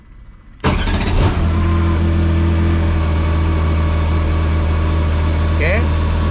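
A race car's engine is started from the cockpit and then runs at a steady, loud idle with a deep rumble, and a brief beep sounds near the end.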